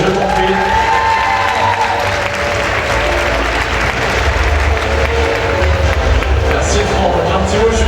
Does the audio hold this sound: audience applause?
yes